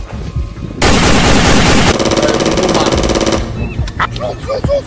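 Rapid automatic gunfire bursts out loud and close, a dense rattling volley lasting a few seconds, followed by scattered sharper cracks and a voice.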